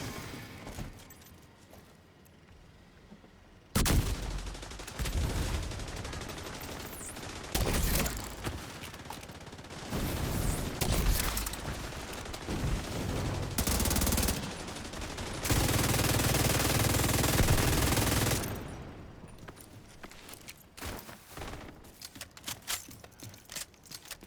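Turret gunfire at the main gate in a video game, with dense sustained bursts of automatic fire that come in loud waves and ease off toward the end, with no talking.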